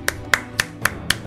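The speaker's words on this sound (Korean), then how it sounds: "데빌맨님께도 박수 한 번씩 부탁드립니다." A few people clap slowly in five spaced, sharp claps, close and sparse rather than full applause, after a match in a One Piece Burning Blood PS4 league.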